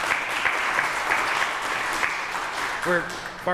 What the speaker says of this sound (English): So really I think Katie deserves a round of applause